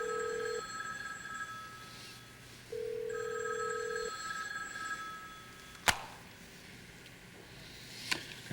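A telephone rings in two long electronic bursts separated by a pause, fairly faint and alone in a quiet room, followed by a couple of sharp knocks.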